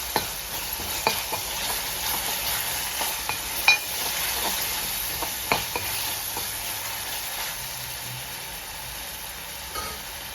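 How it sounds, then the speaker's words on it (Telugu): Ginger paste sizzles in hot oil in a pan of fish curry, a continuous bright frying hiss broken by regular scraping strokes of a spoon stirring close by, with no voices. "కొంచెం అల్లం పేస్ట్ కూడా వేస్తున్నాం"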